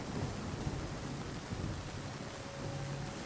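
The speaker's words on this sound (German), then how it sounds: "wir genießen die Umgebung bei Regen mit Schirm" Steady rain with low thunder in the survival game Nightingale, a faint, even hiss of falling rain and a soft rumbling undertone throughout, no voices.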